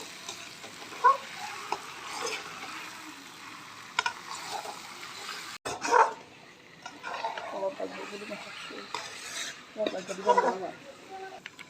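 Broiler chicken pieces stirred in a hot pan with spices, scraping and light sizzling coming in irregular bursts at close range, with a few louder clatters of the spoon partway through.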